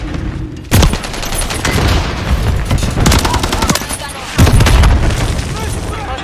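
A Semtex grenade blast booms loudly in a military shooter video game amid heavy automatic gunfire, with two sharp explosive onsets about four seconds apart and continuous rattling shots between them, mixed with game voice callouts.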